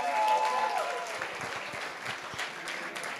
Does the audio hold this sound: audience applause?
yes